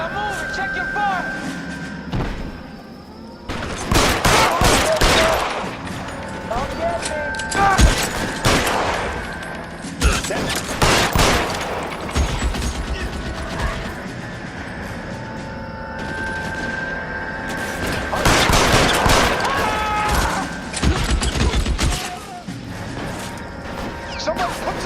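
A shootout in the game L.A. Noire: loud bursts of rapid gunfire and automatic volleys in dense clusters, with crashes and thuds between them and shouted voices over the action.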